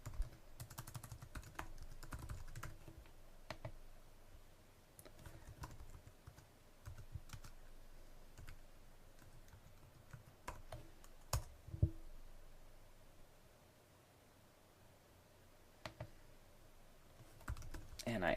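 Keys tapped on a computer keyboard while entering login details at a sign-in page, a fairly steady run of light clicks with brief pauses, soft and close, with no talking.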